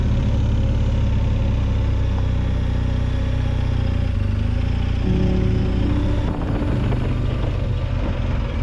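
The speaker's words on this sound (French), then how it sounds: "il y a le moteur qui fait un drôle de bizarre" An engine making a strange noise runs steadily and loudly close by, a dense low rumble with a brief shift partway through, and no voices over it.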